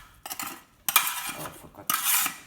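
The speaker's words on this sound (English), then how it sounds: "and stir in pumpkin" Pumpkin being stirred into a pot, with a spoon clanking and scraping against the metal in three separate bursts separated by brief pauses, close and fairly loud, with no talking.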